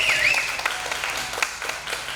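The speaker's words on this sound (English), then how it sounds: "Small round of applause" A short burst of applause from a small crowd at a pinup contest, with light scattered clapping and a brief voice or whistle at the start.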